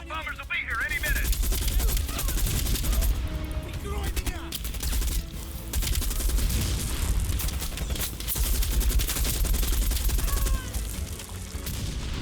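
Enemy machine gun fire in a Call of Duty Black Ops Cold War battle, dense and continuous bursts mixed with explosions and battlefield din, with voices talking over the chaos.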